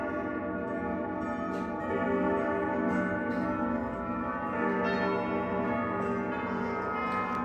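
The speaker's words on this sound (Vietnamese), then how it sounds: "Và ở đây thì chiếc đồng hồ cây này cũng sắp điểm chuông" A 16-gong grandfather clock striking 3 pm, rich resonant chimes ringing continuously with new strikes every second or so over a lingering, layered hum.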